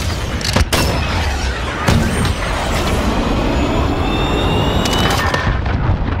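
A UAV drone passes over a Modern Warfare match, heard as a steady, loud jet-like roar with a couple of heavy booms near the start.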